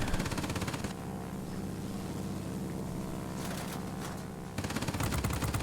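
Me 210 in World of Warplanes with rapid machine gun bursts at the start and end, steady engine drone between them, loud and continuous.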